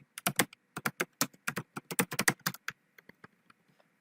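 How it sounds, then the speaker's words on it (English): Someone types on a computer keyboard in quick, irregular bursts of crisp key clicks, close and clear, slowing to a few scattered taps at the end. "We can type in our email"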